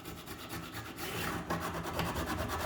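A metal file rasps steadily along the edge of a steel wood scraper during sharpening, close and fairly quiet, with repeated rhythmic strokes and no talk.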